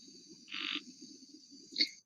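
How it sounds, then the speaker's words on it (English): A Jungle Frogs sound effect from the Scratch library plays on its own: a soft, low chorus of croaking frogs with high-pitched jungle chirps and trills layered over it. "I'm going to pick Jungle Frogs because that seems right."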